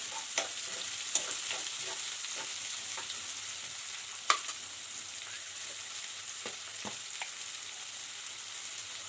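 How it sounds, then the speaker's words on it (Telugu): Onions fry in a pan for a brinjal curry, a soft continuous sizzle with occasional sharp clicks and scrapes of a spoon, quiet and steady with no voices. "ఇప్పుడు ఉల్లిపాయ వేసేసుకుందాము బాగా ఎర్రగా మగ్గేదాకా వేయించుకోవాలి"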